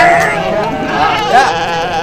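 Sheep bleating close by with a wavering, repeated cry through the whole stretch, mixed with excited voices and shouting in an Indonesian rural setting.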